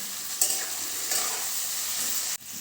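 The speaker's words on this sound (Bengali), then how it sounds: "পেঁয়াজটা লাল লাল করে ভাজা হয়ে গেছে" Salted onions fry in oil, reddening for chicken kosha, with a dense, even sizzle heard up close. Brief stirring scrapes show through, and a sharp break comes near the end.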